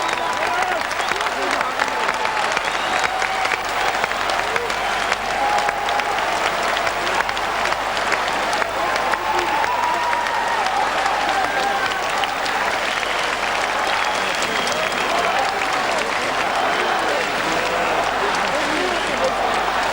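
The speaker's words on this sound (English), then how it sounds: "Listen to the thunderous applause." A packed arena at the 1995 World Judo Championships applauds an ippon throw, a steady, roaring wash of clapping and crowd noise held at full strength throughout, with a commentator's voice faintly underneath.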